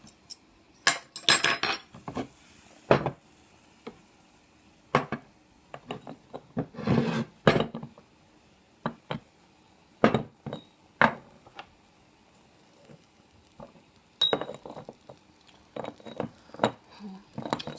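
Tea things being handled beside a penny stove, with cutlery and dishes clinking in sharp, separate taps and clatters, sometimes in quick clusters, close by against a quiet background.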